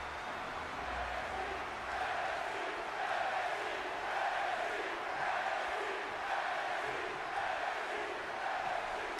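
Arena crowd in the WWE 2K20 wrestling video game cheers and roars steadily throughout, a dense, sustained wall of many voices with rhythmic swells, loud and continuous with no clear speech.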